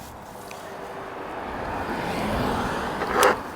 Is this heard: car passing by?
yes